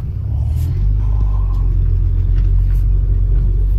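A 2005 Acura TL's engine rumbles low and steady as the car pulls away under throttle, a continuous close drone from inside the cabin without a sharp rev peak.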